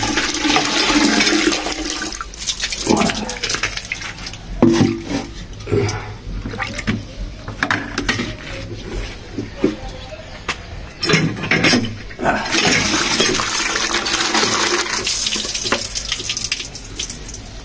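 Water pours and splashes steadily out of a container holding fish, a loud gushing stream with brief breaks and clattering handling, continuing for a long stretch.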